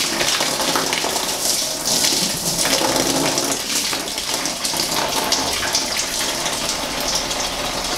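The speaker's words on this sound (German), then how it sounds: "Ich bin echt gespannt, wo das Wasser überall hinläuft." Coolant water draining out of a Toyota Auris Hybrid's inverter cooling system into a pan, a steady gushing, splashing pour that runs continuously and fairly loud with no talk.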